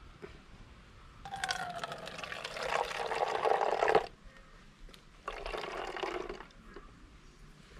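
Homemade pesticide concentrate is poured into a garden sprayer in two separate streams, each a close, splashing gurgle lasting a second or two, with quiet gaps before and between them.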